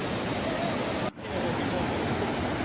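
Water rushing over a causeway at Bindu bridge, flowing in a steady, dense broadband roar with one brief dip midway.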